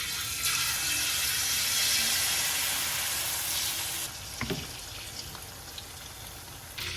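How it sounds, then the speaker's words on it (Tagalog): Steady crackling sizzle of food frying in hot oil, loud and close, easing slightly partway through with a few clinks. "Mainit na yung mantika natin. Pwede na tayong mag-umpisang magprito."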